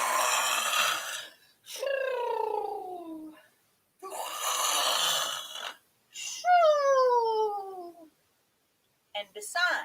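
A voice imitates a dragon princess snoring during a storybook reading: long rasping inhales alternate with descending whistling exhales, repeated twice, loud and close with quiet gaps between.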